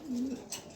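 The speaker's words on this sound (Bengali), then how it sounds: "এই যে একটা কবুতর দেখেন," A single DB pigeon gives one short, low coo close by, with a faint chirp just after.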